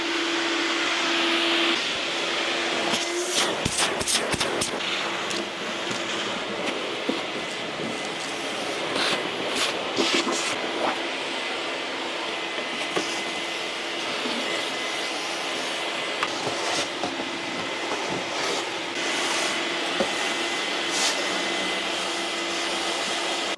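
A 50-litre industrial dust extractor powers up and runs steadily, a loud, constant broadband roar with a few sharp clatters and knocks early on, no voices over it.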